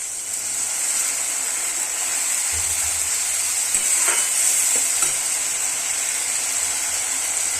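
Masala for a Goan-style surmai fish curry sizzles steadily in the pan as water is poured in, with a few brief stirring scrapes and bursts of hiss over the continuous frying.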